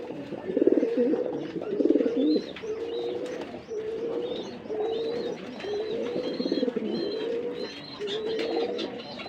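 A pair of German Beauty pigeons coo nearby, with repeated soft, throaty calls rolling one after another in an uneven rhythm.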